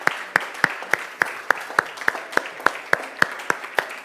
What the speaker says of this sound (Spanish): Denle un aplauso a Jesucristo, por favor.